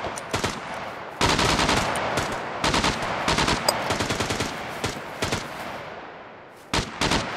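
Rapid bursts of automatic gunfire from the survival video game SCUM, loud and close, in clustered volleys with short gaps between them.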